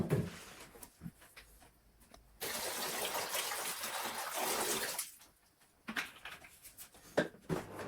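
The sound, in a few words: water poured to mix Magic Oil Care floor cleaner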